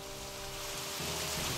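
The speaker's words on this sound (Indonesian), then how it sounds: "Hujan deras turun semalaman." Heavy rain falls steadily at night as a dense, continuous hiss of drops on surfaces, swelling slightly louder toward the end, with no voices.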